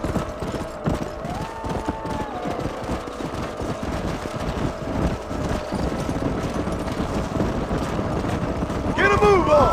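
Horses galloping in the Red Dead Redemption video game, a fast, steady clip-clop of hooves close by under wind noise, with a whinny near the end and people talking over the ride.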